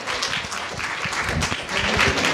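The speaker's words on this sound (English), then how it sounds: "Please give them another round of applause." Audience applause at a Tamil Heritage Month and Thai Pongal celebration in the Ontario legislature, a dense wash of many hands clapping steadily, fairly loud and close, with faint voices mixed in.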